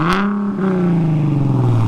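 A car engine revs up sharply in a short burst, then holds a loud, steady drone that slowly sags in pitch, close and alone.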